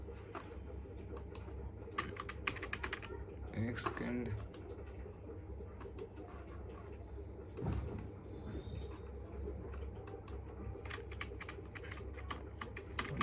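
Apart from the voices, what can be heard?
typing on a computer keyboard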